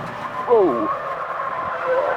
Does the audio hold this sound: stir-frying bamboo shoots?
no